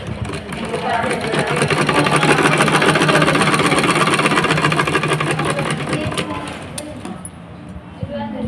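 A sewing machine runs steadily while stitching the neck of a baby frock (jhabla), giving a fast, continuous mechanical whir that holds for several seconds and then slows near the end.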